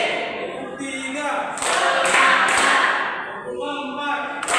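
A classroom of students claps hands in a rhythmic pattern, a few sharp clap bursts in a quick sequence mixed with voices of children and teacher.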